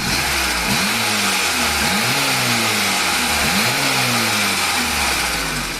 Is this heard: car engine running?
yes